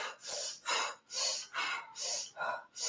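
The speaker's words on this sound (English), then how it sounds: "you're going to regulate your breathing 5 times" Steady, regulated breathing during a breathing exercise: a rhythmic series of audible inhales and exhales, fairly close and alone, each breath about half a second long.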